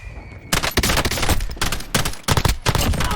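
Rapid bursts of gunfire in a squad-based battle royale game, several loud clustered volleys with short gaps between them, no talk over them.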